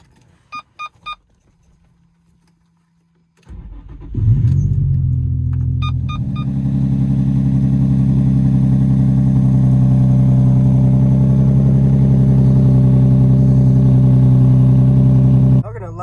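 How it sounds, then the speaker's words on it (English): A manual Infiniti G35 coupe is cold-started: a few faint beeps, then the starter cranks and the engine catches with a rev flare before settling into a loud, steady idle rumble close by. "I'll give you guys that young cold start real quick"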